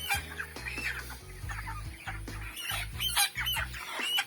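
Chickens on a poultry farm cluck and squawk in repeated short bursts, several birds close by and fairly loud, with no talking.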